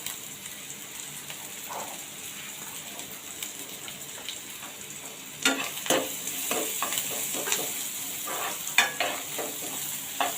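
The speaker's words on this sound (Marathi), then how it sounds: "एक मिनिट कांदा चांगला भाजून घेऊया परतून घेऊया तेलामध्ये" Chopped onion fries in hot oil with asafoetida, a steady close sizzle with intermittent scraping and clicking from stirring that grows busier and louder partway through.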